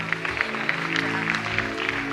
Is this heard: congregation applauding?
yes